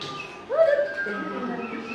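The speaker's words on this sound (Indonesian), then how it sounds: "Dekat, Mama burung itu dekat." A bird calls close by with a short rising, warbling cry that holds briefly, then fades into a low, steady background hum.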